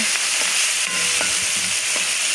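Shrimp with onion and ginger-garlic paste sizzle steadily in a hot pan, with a constant frying hiss and occasional soft scrapes as a spoon stirs them. No one speaks.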